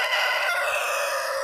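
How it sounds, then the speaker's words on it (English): A rooster crows once, loud and close, a long strained call filling the moment with no talk over it. "excuse the rooster there"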